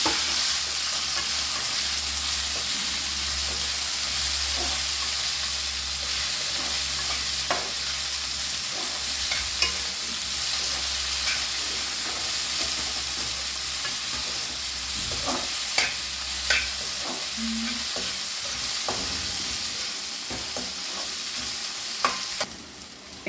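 Boiled broad beans fry in a hot tempering for a Konaseema-style curry. The sizzle is a steady close hiss, broken by scattered clicks and pops from stirring.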